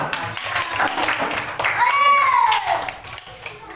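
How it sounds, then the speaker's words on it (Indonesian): Students in a university classroom clap for a presenting group during a teaching-practice exam, a short round of hand claps mixed with voices talking over it. "Saya lagi tepuk tangan dulu untuk kelompok 3."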